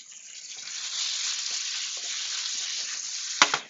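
Butter melting in a hot pan, a steady bright sizzle that builds and holds, ending in a sharp clink, with no voices.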